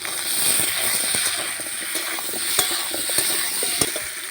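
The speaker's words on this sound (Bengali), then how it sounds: "আলুটা আমি লাল লাল করে ভেজে নেব।" Potatoes seasoned with salt and turmeric fry in hot oil, a steady close sizzle with scattered crackles and light clicks of stirring, no one talking.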